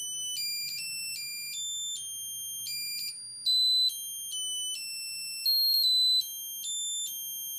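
A voter circuit kit plays a high, thin electronic melody: a string of clean, steady beeping tones in a simple tune, close and fairly quiet with no voices.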